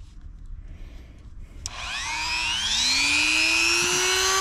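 A Dremel rotary tool, used in mods on a CFMOTO CForce 600 ATV, spins up with a rising whine, then cuts with a loud, sustained high-pitched grinding drone after a quieter lead-in.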